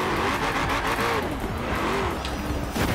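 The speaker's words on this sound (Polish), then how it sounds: "Trzeba tak, dodać gazu, puścić i potem dodać znowu na maksa, żeby go tak mocno bujnęło" Engine of a Ford Five Window car in the Forza Horizon 4 video game revving hard and easing off, with a loud continuous growl and some tire squeal, close up.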